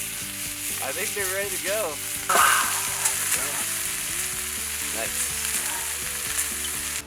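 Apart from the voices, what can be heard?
food sizzling while frying over a campfire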